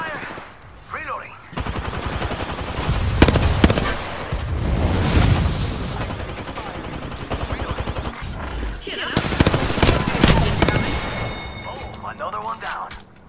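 Rapid bursts of gunfire from an Apex Legends firefight, close and loud, with sharp repeated shots and heavier blasts layered under game voice callouts throughout.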